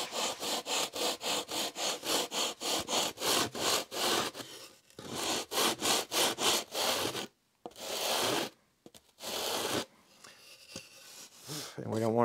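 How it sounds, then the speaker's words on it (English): Sanding block rubbed back and forth over the tail surface of a scratch-built RC model plane, a steady series of close, gritty rasping strokes, then a few longer separate passes, with someone talking over it. "we'll use the sanding block to gently"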